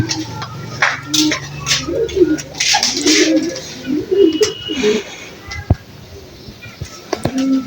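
Pigeons coo nearby in a series of soft, throaty warbles, with people talking intermittently and a few sharp clicks near the end.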